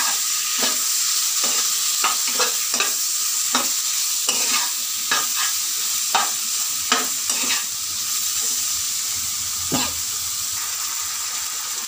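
Spice powder is stirred into a frying pot of Chittagong-style shrimp, with a steady sizzle under repeated scraping strokes of a utensil against the pot, close and fairly loud.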